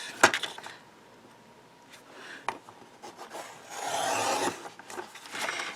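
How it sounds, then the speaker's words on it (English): Card being cut along a marked line for a handmade gift card holder, a rasping, scraping cut with a sharp snip near the start and a louder sustained stretch toward the end, close by. "I am going to cut off from the mark I made at 1 inch to"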